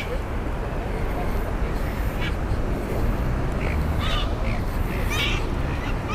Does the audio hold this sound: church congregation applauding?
no